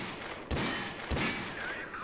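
Two heavy Desert Eagle pistol shots in Call of Duty: Modern Warfare 2 Campaign Remastered, loud close booming cracks about half a second apart, each trailing off into a brief echo.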